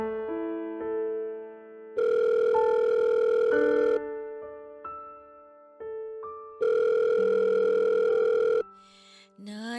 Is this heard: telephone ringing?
yes